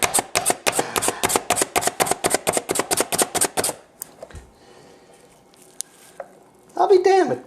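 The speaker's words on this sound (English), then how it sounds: "I guess you got to just put it back under there and chop it a little more" Rapid, steady chopping from a Slap Chop chopper working an onion: about twenty sharp, evenly spaced plunges close up, then quieter handling clatter and a brief voice near the end.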